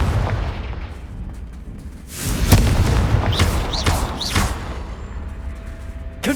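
Confringo blasting spell explosions in Hogwarts Legacy, a loud booming burst followed by rumbling blasts and whooshing spell effects, with no speech.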